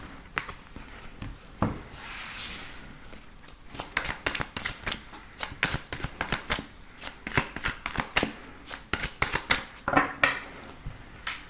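Tarot cards being shuffled and cut by hand, a long run of crisp riffling flicks and dense card slaps, close and fairly quiet, with no voice over it.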